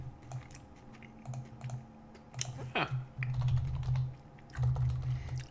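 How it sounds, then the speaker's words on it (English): Fingers tap on a computer keyboard in uneven bursts of light clicks, close and fairly quiet, with a low steady hum underneath and a brief rising whistle partway through. "while I am randomly typing into things where people can't see what I'm doing"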